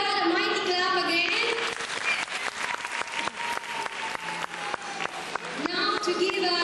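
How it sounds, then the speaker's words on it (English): Clapping rises from the audience at a school recognition and graduation ceremony, many hands applauding vigorously for several seconds while voices carry over it at the start and end. "Can we give our God a mighty clap again?"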